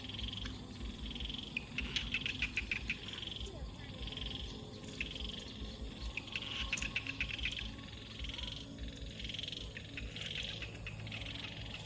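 Frogs and other night creatures call outdoors around a rural home, repeated chirping croaks pulsing in bursts over a steady background drone, with some faint talking underneath.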